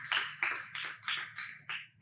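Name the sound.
round of applause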